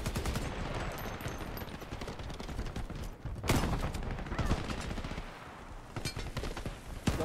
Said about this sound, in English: This shotgun wrecks me.